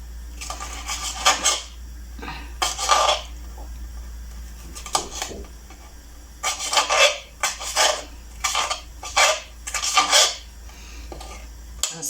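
Knife chopping scallion and tomato finely on a board, a loud close run of quick rhythmic chops coming in short bursts separated by brief pauses, with a steady low hum beneath.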